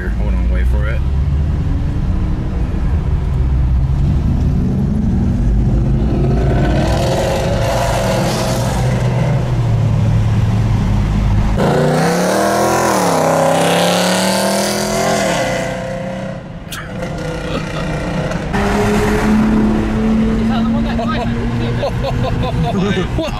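Several Mercedes G-Wagon engines rev hard on a Dubai street, loud roaring bursts that rise and fall over about twenty seconds, with people talking over them.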